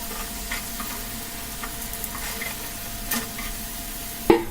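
Potato and rice flour snacks frying in hot oil, a soft continuous sizzle with faint scattered scrapes, ending in one sharp metallic knock as the pieces are lifted out, no talking.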